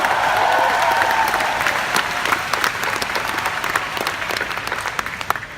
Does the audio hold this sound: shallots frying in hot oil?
no